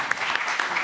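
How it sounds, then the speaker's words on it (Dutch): Brief applause from an audience at a theatre talk event, a short burst of clapping with a few sharper individual claps standing out. "Welkom, applaus."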